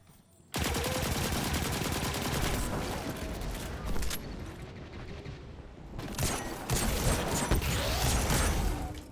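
Rapid, close gunfire from the Destiny 2 shooter game in a solo Legendary Lost Sector run. Loud bursts rattle on for several seconds, break briefly, then resume with heavy impacts.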